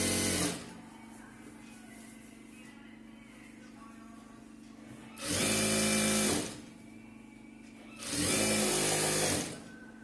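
An electric sewing machine stitches a churidar top in two loud, steady whirring runs of about a second and a half each, with a tailor talking quietly in between.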